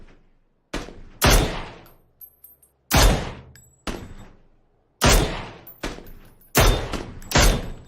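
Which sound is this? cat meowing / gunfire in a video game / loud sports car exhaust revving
gunfire in a video game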